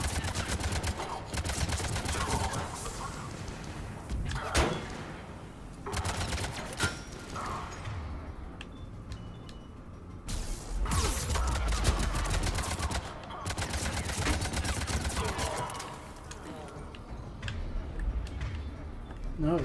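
Rapid automatic weapon fire in the sci-fi shooter Mass Effect 3 rattles in repeated bursts separated by brief pauses, loud and close, with a player's voice talking over parts of it.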